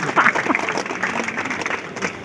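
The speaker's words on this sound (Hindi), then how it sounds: "जोरदार तालियां।" Students at a school Teacher's Day celebration applaud loudly for teachers, a dense burst of clapping with some shouts and voices mixed in across the short moment.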